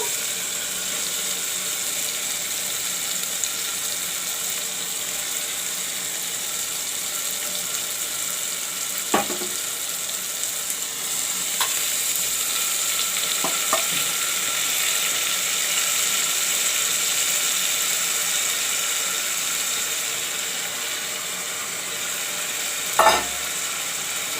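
Tomatoes and onions, then masoor dal, fry and are stirred in a pan, a steady gentle sizzle with a low background hum, broken by a few sharp utensil knocks and clinks, with no talk.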